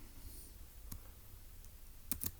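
A few isolated keystrokes tap on a computer keyboard, faint and close, with quiet pauses between a single click and a quick pair at the end.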